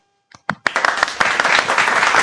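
An audience at a Gujarati comedy program breaks into applause: a few scattered claps, then a dense, loud wave of clapping that holds steady to the end.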